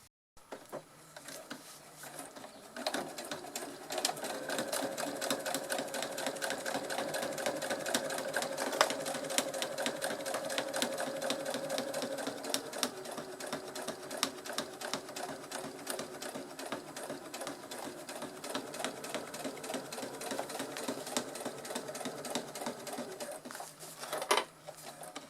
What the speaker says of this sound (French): je vais faire une couture au point droit comme tout à l'heure.